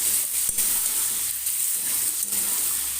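Fried shrimp and pointed gourd sizzle steadily in a pan over high flame, a continuous hiss broken by a couple of sharp clinks of stirring, close and alone without talk.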